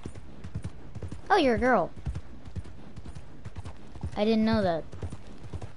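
Horse hooves clip-clop steadily in a video game, a rapid, even stream of light knocks running throughout, under two stretches of a person talking.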